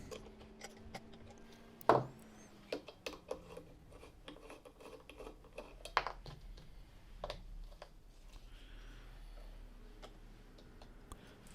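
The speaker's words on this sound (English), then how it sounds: "we've got 4 nuts there that we need to remove using a 10mm socket" A 10mm socket ratchets off four nuts on a Mini R50 power steering pump, giving quiet, close clicking and ticking with a few sharper metallic knocks, spaced irregularly over a low background.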